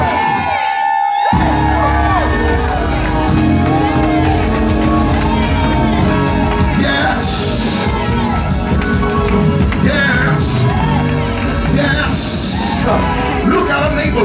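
A church congregation shouts, whoops and cheers loudly and continuously at a worship service, a dense, roaring crowd with a preacher's voice mixed into the din.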